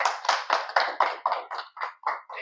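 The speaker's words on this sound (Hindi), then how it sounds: "एक बार मैम के लिए ताली हो जाए" A brief burst of audience clapping for a speaker at a network marketing meeting, roughly ten quick claps in a steady rhythm, close and fairly loud with no talking.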